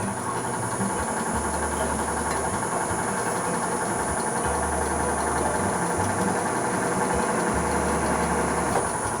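A vintage Tauco pillar drill runs with a steady motor hum and a constant broadband whir, with a low periodic drone pulsing every couple of seconds, close and continuous with no talk.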